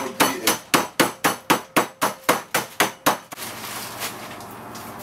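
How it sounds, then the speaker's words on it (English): An old hammer beats food inside a clean carrier bag, giving about a dozen sharp, loud thuds in quick steady rhythm before a brief rustling tail. "Get out my old hammer."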